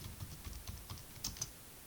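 Computer keyboard keys tapped while Java code is written, a steady patter of light keystrokes with a couple of sharper clicks near the end, close, over a faint hiss, no voices.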